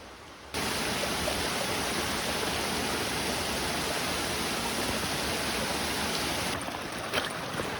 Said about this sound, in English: The river is really rising.